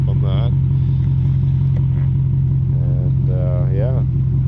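BMW 540i E39 with a tuned custom exhaust idling warm, a steady deep low drone running throughout while a voice talks over it in two short bursts.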